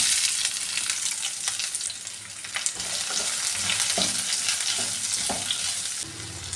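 Grated coconut and onions frying in oil with mustard seeds for a Kerala-style roasted-coconut breadfruit curry, a steady close sizzle broken by scattered stirring clicks and scrapes.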